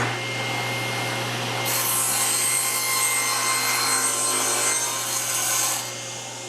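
A table saw blade cuts through plywood while a half lap joint jig is made, giving a loud, steady whine and rasp that starts after a low motor hum and runs several seconds before easing off.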